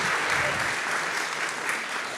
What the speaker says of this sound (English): Clap your hands for Gisele, Robert, Leonardo, and Kauli.